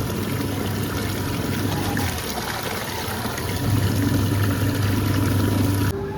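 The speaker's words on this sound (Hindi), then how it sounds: "हमने तीसरी दफ़ा पानी भर रही है इसके अंदर, बस हो जाएगा।" A washing machine fills with water to rinse potatoes, giving a steady, loud rushing and pouring of water with a constant low machine hum throughout.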